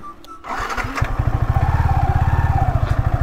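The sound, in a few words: motorcycle riding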